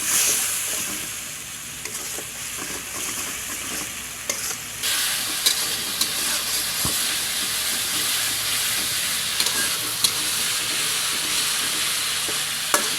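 Spice paste (masala) sizzles in a pan just after a little water is added while cooking a Bengali prawn and pointed gourd dish, a loud, continuous hiss and crackle with occasional stirring clicks and no talking.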